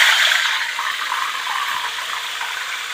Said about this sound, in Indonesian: Kita goreng, sudah panas ikannya